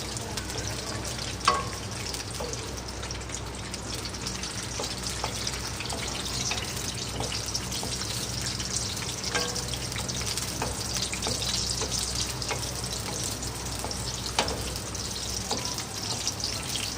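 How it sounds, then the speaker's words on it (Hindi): Chopped onions frying in hot oil for chicken macaroni, giving a steady, close sizzle with crackles and occasional clinks and stirring sounds throughout. "ऑयल डाल के इसमें हम प्याज डालेंगे।"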